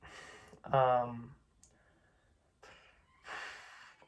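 Heavy nasal breathing close to the microphone from a damaged nose, a loud snorting inhale followed by quieter huffs of air, with a brief voiced sound mixed in.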